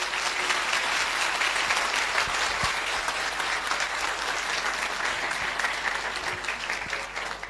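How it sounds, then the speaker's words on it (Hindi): A church congregation claps together in steady, dense applause that fills the room, holding a fairly even level throughout before easing slightly at the end. "आइए प्रभु के लिए अच्छी ताली बजाएंगे मिलके"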